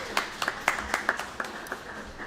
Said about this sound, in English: can we get a round of applause for Liam